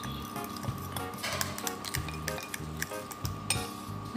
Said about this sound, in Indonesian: Lalu kita beri sekitar 25 gram tepung terigu. Nah, lalu kita aduk.